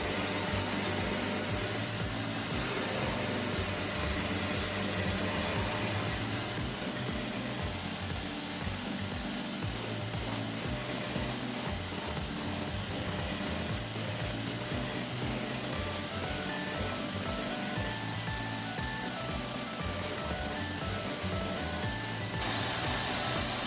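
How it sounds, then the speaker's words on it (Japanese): A belt grinder running a 60-grit belt against the back face of a Damascus-steel Japanese kitchen knife blade, a steady loud abrasive hiss and rasp lasting throughout with slight variations in pressure. "60番のベルトで裏面を作っていきます"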